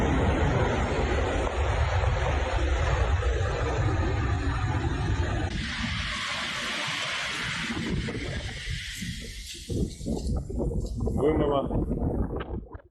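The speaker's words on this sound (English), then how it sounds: "Huge sea waves flooded streets and hotel apartments located off the coast" Huge Black Sea waves crash ashore during storm Bettina, flooding streets; a loud broad roar of surf and wind gives way to breaking splashes, with voices talking throughout.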